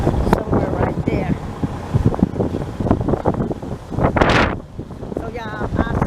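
Wind gusts buffet the microphone outdoors on a farm, a rough, uneven rumble rising and falling throughout, with someone speaking intermittently over it.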